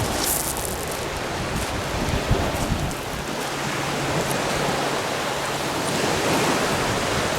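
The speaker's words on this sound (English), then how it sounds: "I just listen to this, listen to the water." Sea waves wash steadily onto a beach lined with beach huts, a continuous close rush of surf with a little wind and no voices.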